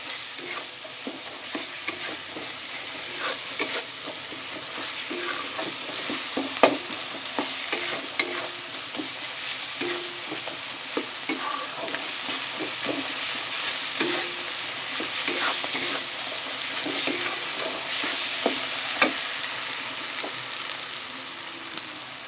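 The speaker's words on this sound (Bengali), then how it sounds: "দিয়ে ভালো করে মশলাটা কষিয়ে নেব।" Spice masala for vegetable ghugni being stir-fried in a pan, a steady close sizzle and frying hiss with repeated scraping stir strokes throughout, no voices.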